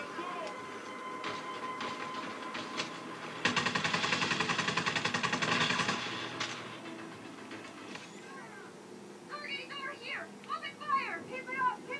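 Rapid automatic gunfire bursts out in Just Cause 4 for about three seconds amid a busy game soundscape, and a voice talks loudly afterward.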